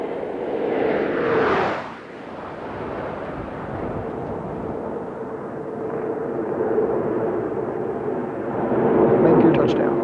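Space Shuttle Columbia touching down on the runway at the end of the STS-90 mission, a broad roaring rush that dips and then builds again, with a voice talking over it.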